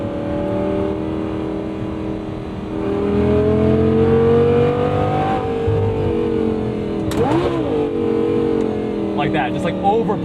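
A 2011 Audi R8 V10 Spyder with a gated manual gearbox hums at steady revs, then its engine is blipped in a couple of quick throttle stabs that flare and fall. Someone talks over the engine throughout.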